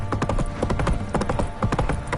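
Roach, a horse in the video game The Witcher 3, gallops in loud, rapid, rhythmic hoofbeats that stay close and continuous throughout.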